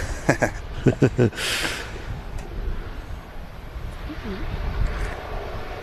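An airliner rolls out after landing at Manchester Airport, a steady distant roar of engine and runway noise mixed with wind buffeting the microphone, with a brief voice and a sharp gust near the start.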